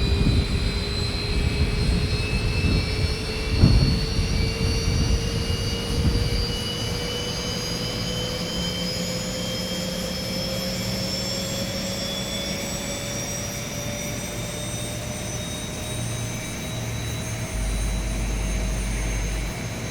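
The jet airliner engine in X-Plane 11 spools up during start, a steady loud roar with a whine that slowly climbs in pitch over about twenty seconds, with no voices.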